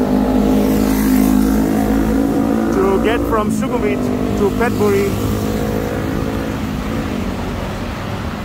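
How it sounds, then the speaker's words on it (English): Heavy traffic rumbles along Ekkamai Road in Bangkok's Sukhumvit area, a steady loud engine drone with vehicles passing close by, while someone talks over it throughout. "Ekkamai is one of the main streets that are used by the big traffic"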